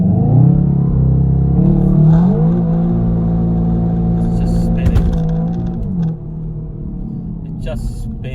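A Seat Leon Cupra 290 holds a high steady engine drone during a launch-control attempt with wheelspin, the revs sagging and dropping back near the end, loud and close, with someone talking over it.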